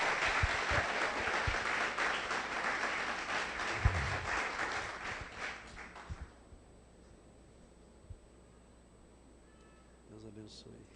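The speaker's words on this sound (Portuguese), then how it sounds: "Vamos recebê-la com uma salva de palmas," Church congregation applauds to welcome a visiting pastor, with dense clapping for about six seconds before it fades out. A few short cries rise over the clapping, and near the end a voice begins to speak over the quiet room.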